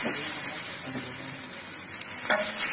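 Chopped tomatoes sizzle in a pan with pepper chicken while being stirred. A steady, close frying hiss carries a few light scrapes and knocks from the stirring.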